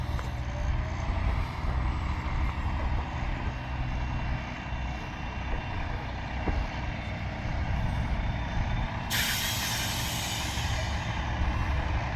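Concrete truck idling at a construction job site during a pour of column bases, a steady loud diesel rumble with engine drone throughout; a hiss-like broadband burst near the end may be an air brake release.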